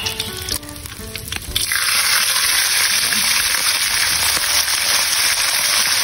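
Galunggong fish frying in hot oil, a steady dense sizzle that swells loud after a brief quieter start and holds close and continuous.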